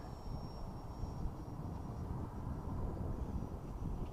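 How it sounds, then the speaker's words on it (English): An LX Models F-117 Nighthawk RC jet with a 70mm electric ducted fan flies near full throttle, a steady, faint whooshing roar with light wind noise and no talking. "I'm flying this thing pretty much full throttle"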